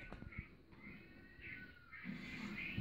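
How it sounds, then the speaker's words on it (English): Faint cat meows from a phone video playing nearby, several drawn-out cries in a row over a low background hum. "He's got this cat video going, and all I hear is meow, meow."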